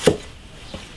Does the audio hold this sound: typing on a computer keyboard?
no